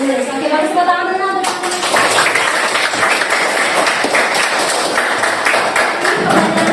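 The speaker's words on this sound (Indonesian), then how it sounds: "tepuk tangan dulu" Students clap together in an Arabic-language classroom at an Indonesian Islamic senior high school: a brief voiced sound gives way to steady, dense, close applause that fills the room for several seconds.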